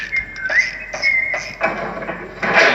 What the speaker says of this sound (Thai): ผิวปากด้วย